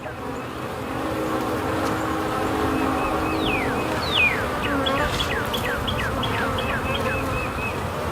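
A steady, dense buzzing of many bees fills the clip, with a few individual insects whining past up close.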